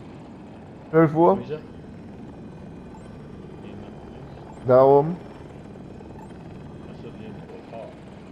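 Game helicopter, a KA-520 Super Hokum killstreak on the Hourglass map, thrums steadily in the background while excited players talk over it in two loud bursts.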